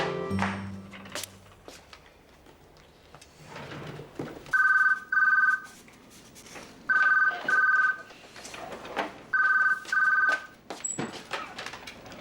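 A telephone rings in three double bursts with pauses between, over quiet background noise and occasional soft thumps.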